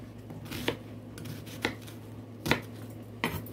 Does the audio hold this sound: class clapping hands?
no